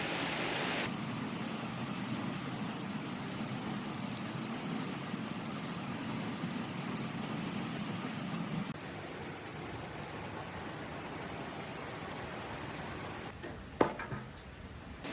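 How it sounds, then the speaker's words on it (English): Steady rain drumming on a pavilion roof, a continuous close hiss of drops with no talk, easing slightly toward the end with a single sharp tap. "It wouldn't be an Old Southern Pine video if we didn't get rained on."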